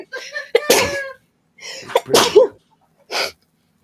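Several sharp, close sneezes from a person come in quick succession, loud bursts separated by short pauses, with a brief spoken word mixed in.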